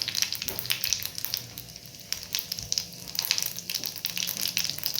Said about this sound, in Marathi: तेल तापलं आहे मोहरी टाकून घेऊ जिरा टाकून घ्यायचं